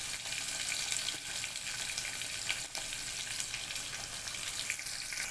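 Chopped onion and green chilli fry in hot oil with curry leaves, giving a dense, even sizzle that stays loud and unbroken throughout, with no talking.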